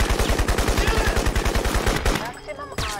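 Rapid automatic gunfire in the video game Crysis, a loud, close, evenly spaced burst of shots lasting about two seconds, then a short pause and a shouted voice as the firing stops.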